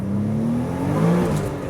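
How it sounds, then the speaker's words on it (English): A tastefully modified 1993 Nissan 300ZX twin turbo accelerates, its engine note climbing steadily as it pulls hard from inside the car, loud and continuous without talk. "Let's test out the acceleration."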